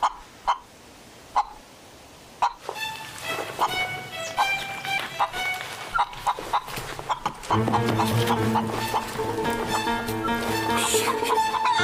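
Chickens cluck and squawk close by in repeated bursts, with scattered knocks early on and a busier, louder stretch of clucking toward the end.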